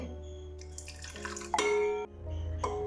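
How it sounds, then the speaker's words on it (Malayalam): Water poured into the bottom of a metal pot while making rose water, a short trickle and splash building and then settling, fairly quiet and with no talk. "കുറച്ച് വെള്ളം ഇതിൻ്റെ അടിഭാഗത്ത് ഇങ്ങനെ ഒഴിച്ചു കൊടുക്കണം"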